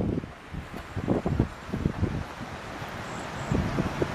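Wind gusts outdoors at Winding River Park in New Jersey, buffeting the microphone with uneven rumbling bursts and rustling, close and fairly steady throughout with no talking.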